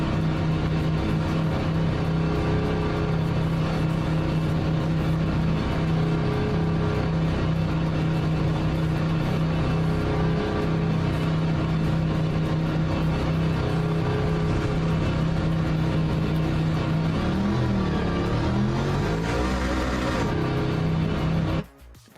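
A Ford Mustang engine in a racing sim drones steadily at constant revs, then pitch rises and falls as it revs near the end before cutting off.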